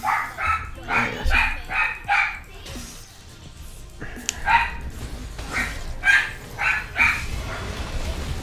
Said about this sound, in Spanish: Está el perro de mi hermana ahí, claro. Es tocar el timbre y es que no para.